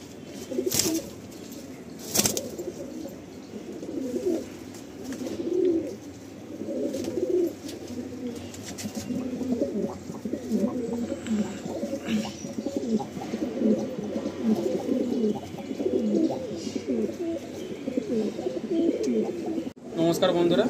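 Madrasi pigeons coo repeatedly in low, soft rolling calls as they are released, with a few sharp knocks and occasional wing sounds, while a person speaks over them at moderate level.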